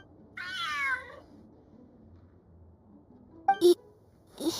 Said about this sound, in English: this cat is way bigger than the others